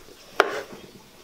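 A knife slices through a pan-fried Chinese sausage in one quick, crisp cut on a board, close and quiet with no talking.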